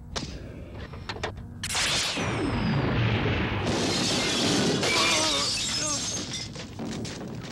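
Anime sound effect of a nearby shot going off with a loud explosion: a sharp crack, then a sustained roaring blast with crashing, shattering debris that rumbles on for several seconds.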